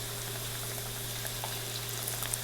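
Fish pakora in batter fries in hot oil, a steady, even sizzle with tiny crackling pops and a low hum behind it, with no talking.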